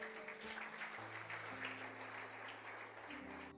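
Church congregation clapping during a sermon, a broad, steady burst of applause with sustained organ or keyboard chords underneath, fairly loud and continuous.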